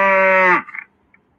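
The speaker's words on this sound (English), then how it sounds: "like a cow's moo" A single cow lets out one loud, close moo lasting about half a second, ending abruptly and followed by a faint trailing sound, then near silence.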